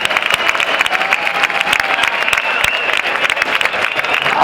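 A crowd at the Fiestas del Pilar proclamation in Zaragoza applauds with lively, uneven clapping, some individual claps sharp and close, with a bit of cheering mixed in.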